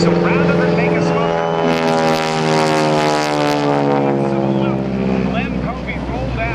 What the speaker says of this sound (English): Bill Leff is going to demonstrate part of what was done by the late Len Popey when he was doing an aerobatic routine at the Miami Air Races 74 years ago.